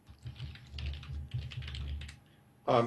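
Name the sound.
typing on a computer keyboard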